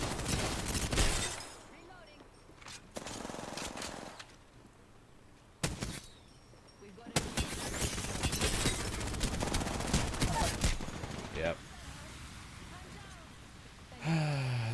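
Gunfire from a weapon in the video game Assassin's Creed Valhalla, heard as loud bursts of shots with quieter gaps between them, mixed with other game sounds.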